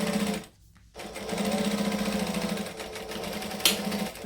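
A sewing machine stitches a hobo bag panel at a 3 3/4 stitch length, a close, steady mechanical hum that stops briefly near the start, then resumes evenly with a small click near the end.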